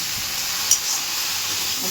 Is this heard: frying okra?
yes